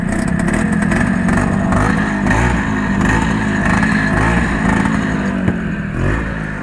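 Snowmobile engines running and revving on a snowy outing, a loud, steady mechanical drone with rising and falling throttle across the whole stretch, close to the listener.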